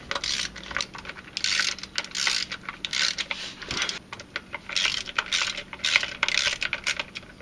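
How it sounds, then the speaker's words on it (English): Small metallic clicks and ratcheting ticks repeat in quick irregular bursts as Allen bolts are snugged down on a Jeep Grand Cherokee transmission pan, close and fairly quiet with no talking. "Just snugging these up, and then we're going to come back and torque them."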